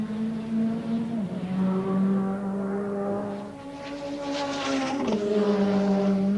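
A touring car on a qualifying lap heads up Mountain Straight at Mount Panorama, Bathurst, in the 1988 Asia-Pacific Touring Car Championship. Its engine gives a loud, sustained drone, shifting gear twice with a brief dip in pitch each time.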